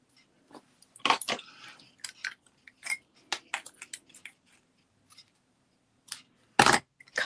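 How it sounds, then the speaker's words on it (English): Sharp crisp snips and rustles of ribbon scissors cutting ribbon, several quick cuts scattered irregularly with quiet gaps, close by. "Cutting it with my ribbon scissors"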